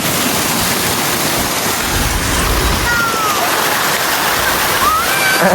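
Rushing floodwater roars continuously after heavy rain in Bahadurgarh, a broad steady wash of flowing water with faint voices in the background.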